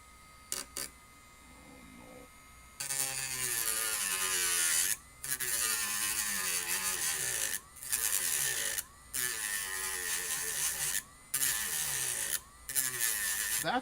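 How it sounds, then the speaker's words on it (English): A Dremel rotary tool grinds back PS One console plastic in repeated whining bursts separated by short pauses, loud and close. "We might have to, like, Dremel back some of this."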